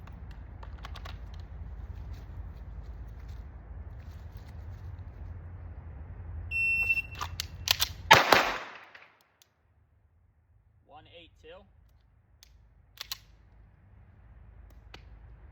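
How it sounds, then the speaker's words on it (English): A Staccato CS pistol is racked and then fired, giving a brief metallic slide clack, then one sharp, loud report at close range, followed by quiet with faint distant sounds. "So this one we will be racking and then shooting."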